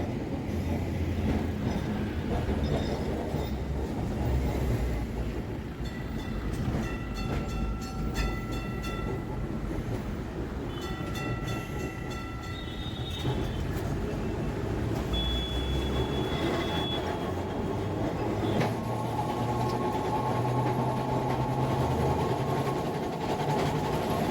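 A Kolkata tram rolls along its rails, a continuous rumbling clatter of wheels on track with intermittent high metallic squeals, loud and close throughout.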